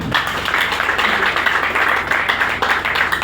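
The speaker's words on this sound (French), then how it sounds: "qu'il soit encore applaudi" Applause at a birthday celebration for a senator, a dense run of hand claps and taps from a gathered crowd, steady and fairly close, with faint voices mixed in.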